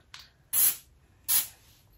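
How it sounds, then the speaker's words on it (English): Two crisp bursts of coconut-scented aerosol room spray hiss, each about a quarter second long, close by, preceded by a faint click, with quiet between them. "I got the room spray to spray in the room. So I'm gonna spray right now"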